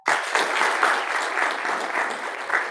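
Audience applause at a panel discussion on a pageantry book, a steady wash of many hands clapping together, loud and close, running evenly from start to finish with no talk over it.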